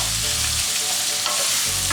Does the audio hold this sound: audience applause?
no